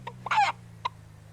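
A person imitates a chicken with a voice, giving a quick cluck, then a longer squawking burst, then one more short cluck, loud and close with a steady low hum underneath.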